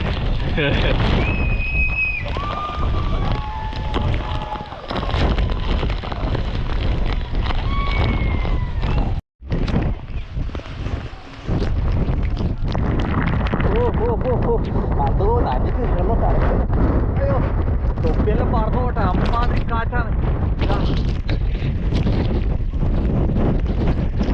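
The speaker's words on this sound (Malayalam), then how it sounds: "കാറ്റ് ഭയങ്കര കാറ്റാണ്" Strong wind roars and buffets the microphone at a reverse waterfall, a constant low rumble running the whole time with voices faintly heard beneath it.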